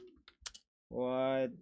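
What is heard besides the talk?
typing on a computer keyboard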